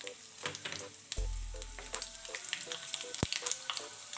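Whole spices like clove, cinnamon and broken black cardamom sizzling in hot oil for chole, with a soft crackle interrupted by a brief low thump and light clinks of a spoon.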